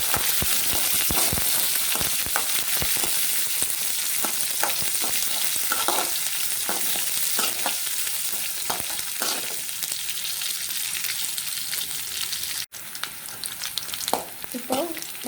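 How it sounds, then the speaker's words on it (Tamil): Shallots, garlic, dried red chillies and curry leaves sauté in hot oil in a pan, a steady close sizzle and crackle with frequent scraping stirs, briefly interrupted near the end before sizzling on. "எல்லாத்தையும் சேர்த்து நல்லா வதக்கிக்கலாம்"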